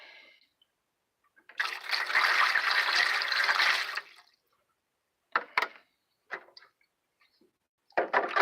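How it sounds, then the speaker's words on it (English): Water pours into a rust-removal electrolysis tank in one steady splashing gush of about two and a half seconds, followed by a few short splashes and drips, with no one talking. "Let's put a little more water in there."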